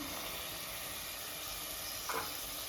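Peas tossed into a hot pan with carrots for pulao set off a steady, soft hissing sizzle, with a brief louder stir or scrape partway through.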